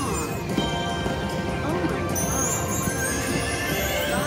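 Horse neighing and galloping clip-clop hooves in the bonus round of a Coin Combo Hurricane Horse slot machine game, loud and busy, with electronic jingles and someone talking briefly over it.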